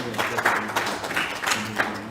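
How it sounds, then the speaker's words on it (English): An audience at a ceremony clapping as award recipients return to their seats, a moderate, somewhat distant patter of hands with bursts of louder claps and faint speech mixed in. "Let's clap hands as I take their seats."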